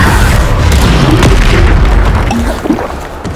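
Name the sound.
Bombarda explosion spell blast in video game Hogwarts Legacy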